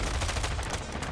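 Rapid gunfire crackles through a Call of Duty Warzone 2.0 firefight, a dense, continuous burst of shots lasting about a second with no pauses between them.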